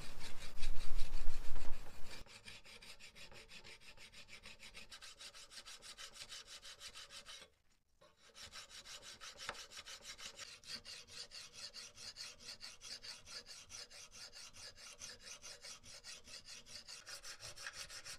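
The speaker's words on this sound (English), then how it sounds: "I'm going to file out the high spots so it's all nice and even for when I put on the handle." A hand file rasps rapidly over the hardened steel tang of a handmade gladius sword, dense rhythmic scraping strokes at close range with a brief pause midway and no speech.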